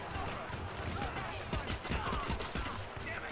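Gunshots fired at the floor in the stealth game Hitman, a rapid series of sharp cracks and thuds against the floor mixed with game ambience, fairly quiet overall.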